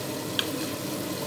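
Salted potatoes boil in a pot as they are stirred, giving a dense, steady bubbling hiss with one light clink of the spoon, close and without talk.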